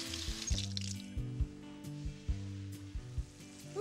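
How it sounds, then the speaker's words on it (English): Tourtière meat filling frying in a pan and being stirred, a faint steady sizzle with soft, irregular scraping and squishing, close and quiet. "I'm just going to stir it around a little bit"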